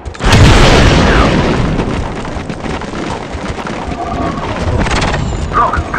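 A demolition charge detonates in Star Wars Republic Commando: one loud, close boom up front that rolls into a long rumbling, debris-filled decay, with muffled voices underneath.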